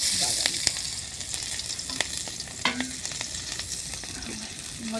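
Onions sizzle steadily in hot oil in a pan for a fish bharta while a utensil stirs them, scraping and clicking now and then against the constant frying hiss.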